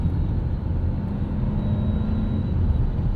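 Inside a 1996 BMW 735i V8 with a 5-speed manual, the engine drones low and constant while driving around 3,500 to 4,000 RPM, a steady cabin rumble without voices.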